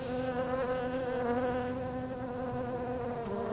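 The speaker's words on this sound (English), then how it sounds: "Watch this worker bee. She'll collect the propolis and pack it into her pollen basket." A Carniolan worker honey bee buzzes steadily and close while collecting propolis, its droning wingbeat holding an even, continuous hum with no pauses and no voices.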